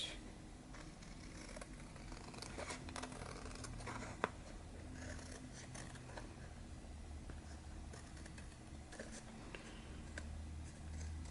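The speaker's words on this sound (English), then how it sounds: "now I'm going to just trim this part" Scissors trim a paper junk journal tag, a faint run of soft, crisp snips and small rustles up close in a quiet room, with one sharper click partway through.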